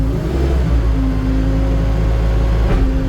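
A Doosan 7-ton forklift's loud idling engine drones steadily, with a hydraulic whine rising and then settling as its three-stage mast lifts, close and unbroken.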